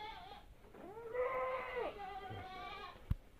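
Jawa Randu goats on a breeding farm give a single long, wavering bleat near the pen, rising then falling over about a second, with quieter animal sounds around it and a brief knock near the end.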